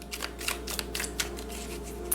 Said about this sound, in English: I'm going to shuffle a few times because I've been shuffling this deck all day.